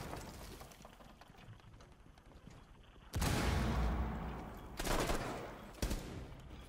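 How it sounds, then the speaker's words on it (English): Grenade blast in Rainbow Six Siege: a loud, sudden explosion roars up after a stretch of quieter game noise, followed by two more sharp bangs as the fight heats up. "Throwing grenade."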